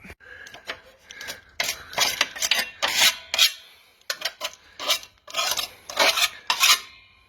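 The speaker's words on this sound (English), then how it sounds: "that's when I grab my scraper and just give it a scrape" A metal scraper rasps across the underside of a Honda HRU216 lawnmower deck in repeated bursts of harsh, close scraping strokes with short pauses between them and no talking.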